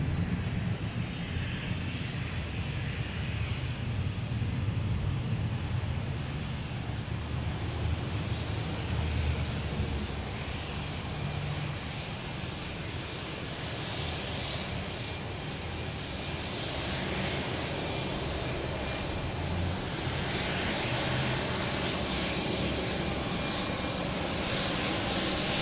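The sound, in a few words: Delta Embraer E175 jet arriving at Boston Logan Airport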